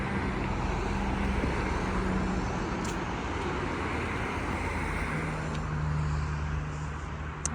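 Highway traffic on a road rushes past in a steady, dense roar, with engines droning constantly and no pauses.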